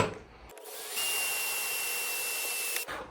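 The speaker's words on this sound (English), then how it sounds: "Not the sharpest drill bit, but it does the job." A power drill with a dull bit whines steadily for a couple of seconds as it bores into a part on a 1981 Honda Goldwing GL1100 motorcycle, close and fairly quiet, then cuts off.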